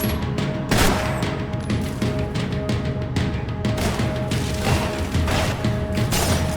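Dense gunfire rings out in a Max Payne 3 shootout, with sustained bursts of automatic weapons and rapid overlapping shots, loud and close throughout, punctuated by sharp impacts and crashes.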